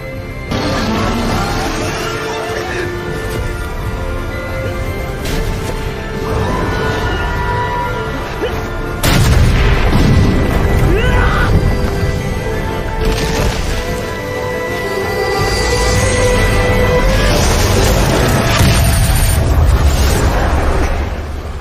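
Fire Bullet magic spell explosions from the Danmachi anime, a long stretch of loud rumbling blasts and crashing bursts that swell and surge, with a heavier impact midway and sustained roaring fire afterward.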